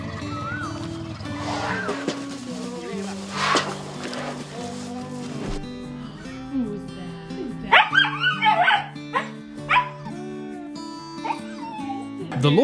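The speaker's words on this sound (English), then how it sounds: "The loyal dog never misses a day, always waiting, and rejoices like it's the first reunion when its owner returns." A loyal dog greeting its returning owner, whimpering and yipping in excited bursts that grow louder toward the end, close by and layered under soft background music.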